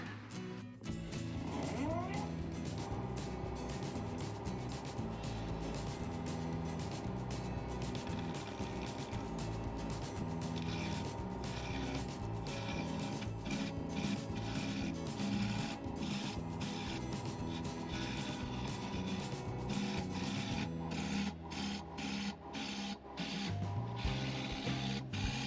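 Wood lathe spinning a segmented strip bowl at 1000 RPM, a continuous whirring drone with rapid scraping and chattering as the tool cuts air and wood, steady and close throughout.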